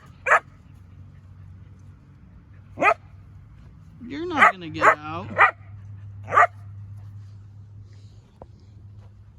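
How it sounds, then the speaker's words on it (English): A neighbor's dog barks outdoors, sharp single barks spaced several seconds apart and then a quicker cluster, moderately loud, with a person speaking briefly in between. "there goes the neighbor's dog"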